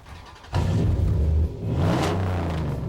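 A Dodge Ram 1500 pickup's 5.7-litre Hemi V8 rumbles low, then revs up with a deep throaty roar that holds steady and swells again, close by with no talking.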